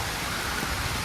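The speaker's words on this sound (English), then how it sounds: "Clearly, the rain's not going to stop for a while." Rain falls steadily, a close, dense hiss of drops spattering on surfaces, constant and even for the whole moment with no voices.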